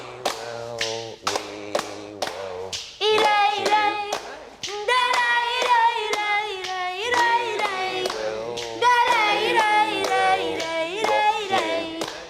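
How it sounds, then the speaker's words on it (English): Flamenco palmas, sharp rhythmic hand claps and foot stamps, ring out in crisp repeated bursts alongside tonal music or singing that swells in, steady and close. "palmas, flamenco's distinctive hand claps and stamps"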